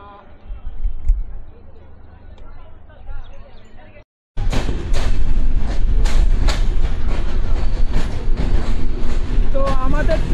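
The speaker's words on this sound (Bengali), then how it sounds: "তো আমাদের ট্রেনটা তার 3 নম্বর স্টপেজ 500 বিবি রেল স্টেশনে প্রবেশ করছে।" The Drutojan Express, a passenger train from Dinajpur to Dhaka, pulls into a railway station, heard from on board as a loud, continuous rumble with rhythmic clacking wheels and squeals after a brief quieter stretch.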